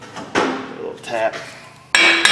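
A few sharp metallic taps and clinks on a Chevrolet Sonic front wheel hub ring out separately, with brief resonant tones between them, close and fairly loud.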